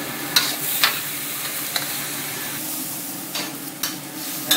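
Pork stir-frying in a hot pan, releasing its fat and juices, gives a steady loud sizzle with several sharp spatter pops and scraping stirs scattered through, and no voices.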